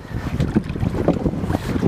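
A motorboat under test on open water in the sun runs steadily, its broad engine and hull wash mixed with gusting wind noise on the microphone, with no talk.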